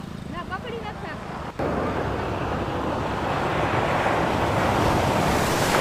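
Rough sea surf breaks on the shore near Jamnagar with a loud, continuous roar under heavy wind buffeting, after brief talk at the start.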